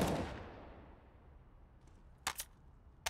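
Counter-Strike gunfire shot through a wall on the Overpass map: a few sharp, short cracks near the end of the clip, preceded by a decaying rumble and a quiet in-game background.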